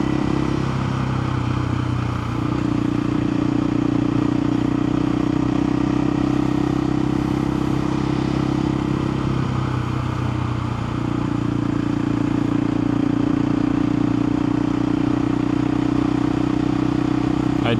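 A KTM 500 EXC-F dirt bike cruises along country roads, a steady engine drone with wind rush heard from the rider's position, the pitch shifting slightly as the throttle changes, a voice talking over it.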